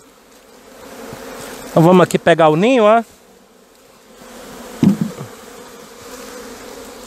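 Honey bees buzz steadily around a hive box as a nucleus colony is moved into a nest box, with someone speaking Portuguese over the constant drone.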